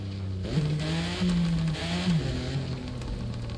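A BMW Z4 sDrive drives off-road in the video game The Crew 2, its engine a steady low drone that shifts pitch with a few gear changes, under faint hiss and with no talk.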